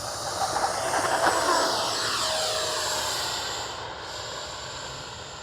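An FMS F-16 64mm EDF radio-controlled jet passes by in the open air, a steady whooshing, hissing ducted-fan roar that swells to its nearest point and then fades as the model moves away.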